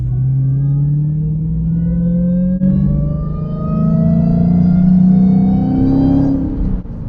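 A widebody Hellcat engine revs steadily, pitch climbing and sliding as it accelerates, loud and close, with a brief dip partway through and no voices.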